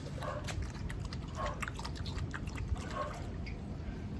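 Close, rhythmic wet lapping as a dog drinks water in Manila, a quick steady series of small splashy laps.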